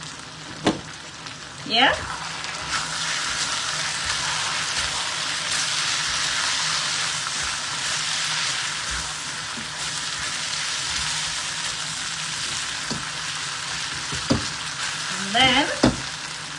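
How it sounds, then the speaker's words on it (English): Pork loin and mixed vegetables sizzle and simmer steadily in a hot pan with a broad, even frying hiss, broken by a few utensil clicks and scrapes, and a brief voice speaks at one point. "we're going to let this simmer"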